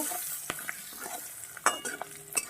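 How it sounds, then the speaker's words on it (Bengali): Raw banana pieces fry with salt and turmeric in a pan, a soft sizzle broken by clinks and scrapes of a spoon stirring against the metal, close and fairly quiet. "পরিমাণ মতন হলুদ তো এটাকে একটু লাল লাল করে ভেজে নেব"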